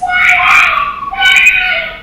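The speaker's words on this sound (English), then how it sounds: "moments later, you can hear his screams" A young boy screams in two long, shrill bursts, loud and close, with a brief dip between them, captured by a doorbell camera on a residential street.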